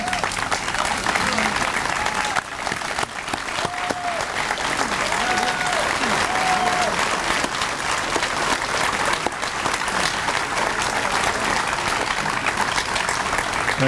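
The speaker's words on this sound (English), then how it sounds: "give a sound round of applause to our dear friend, Congressman" Sustained applause for a congressman at a Memorial Day 2021 gathering in Martin County, Florida: a loud, dense crowd clapping without a break, with cheers and whoops rising briefly above it.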